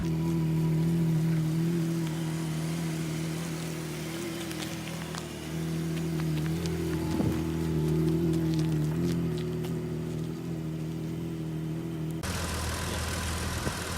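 A 1972 BMW 3.0 car engine idles steadily with a low, even hum and drone, holding a constant pitch; a brief shift in tone near the end.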